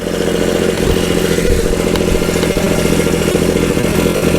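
A tractor engine holding steady at about 1500 RPM while towing an Agri Fab 48 by 24 inch steel lawn roller across a field, a constant loud drone with some rattle and clatter and no talk.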